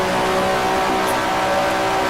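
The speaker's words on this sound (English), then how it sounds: "Topping out in 5th gear here, I think I could lengthen the gears a little bit on the Cooper." A 1967 Cooper Formula One car held near its limit in 5th gear at Monza in the Grand Prix Legends racing sim, a steady, loud, buzzing high-revving engine drone with no pause for the full stretch.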